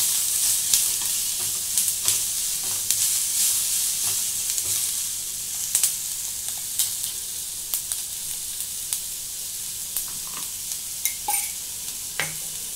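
Vegetables sauté in a pan with a little ghee for ragi soup, a continuous soft sizzle broken by frequent clicks and scrapes of stirring, close and without talk.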